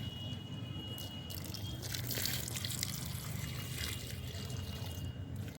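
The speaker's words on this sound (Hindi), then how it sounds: "अब पानी भी इसमें डाल दूँगी" Water is poured into a pot holding a freshly repotted lemon plant, a steady trickling, splashing flow running continuously at moderate level from start to finish with no talk.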